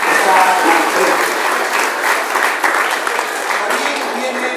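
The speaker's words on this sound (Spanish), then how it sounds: "Un fuerte aplauso para los que tienen aquí la directora de Vita y todo el equipo de trabajo que está aquí en frente." An audience at a community health event applauds the director and work team, steady clapping from a crowd that holds at an even level throughout.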